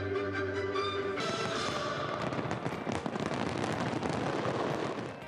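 Fireworks launched into the sky at a Busan festival crackle and burst continuously, a dense, loud barrage of pops and booms with faint music under it at the start and no talk.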